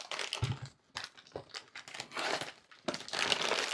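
A trading-card package being cut open: faint, close plastic crinkling and rustling in short irregular bursts separated by brief pauses.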